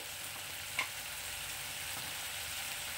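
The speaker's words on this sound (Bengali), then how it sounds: "দেখুন বন্ধুরা মশলাটাকে দিয়ে দিয়েছি, এবার এটাকে খুব ভালো করে কষিয়ে নেব" Spice paste for a South Indian fish curry sizzles steadily in a pan, a close, even hiss with a faint stir or tap near the start, and no voices.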